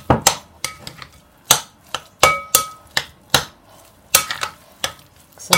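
A utensil mixes mashed potatoes with butter in a bowl for pommes duchesse, making a series of sharp, irregular knocks and scrapes against the dish, close and fairly loud, with no voices.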